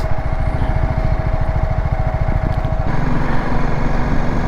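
A BMW 310 GS motorcycle rides along a hill road toward Kasauli, its single-cylinder engine thrumming steadily and close throughout, with a brief shift in tone near the end and no talking.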